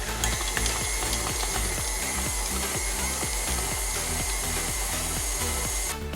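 A stand mixer creams butter for cupcake frosting: a loud, steady motor whir with a regular churning thump from the beater that runs throughout, with no talking.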